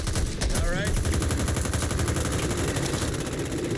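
Rapid, continuous gunfire in the co-op zombie shooter Back 4 Blood, dense bursts running unbroken throughout, loud and close, with a brief voice heard early on.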